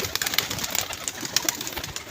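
A pigeon caught at night in a net coos softly near a pigeon fancier, short soft calls repeating over light background noise.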